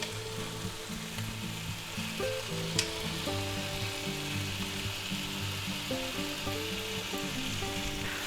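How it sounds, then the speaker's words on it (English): Hot Italian sausages frying in a pan give off a loud, steady, crackling sizzle that runs throughout, with a single brief knock partway through and quiet background music underneath. "we'll flip our sausage over and get it nice and brown"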